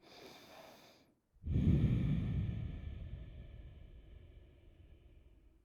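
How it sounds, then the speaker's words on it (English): Deep breathing during a yoga side bend: a short breath, a brief pause, then one long, full, close breath that slowly fades as the air is released. "Take a deep breath here."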